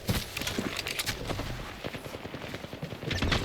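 A Titanfall firefight with Kraber and Volt weapons brings rapid, dense bursts of gunfire, sharp crackling shots repeating without a break at moderate loudness.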